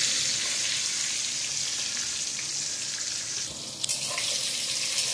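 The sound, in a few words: brinjal (eggplant) slices frying and being stirred in a pan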